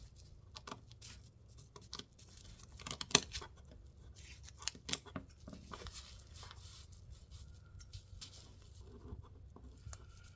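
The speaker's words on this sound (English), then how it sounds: "I'm just going to cut this out." Scissors snip out a paper gnome Christmas ornament in quiet, close, irregular cuts, with a soft rustle of paper between the snips.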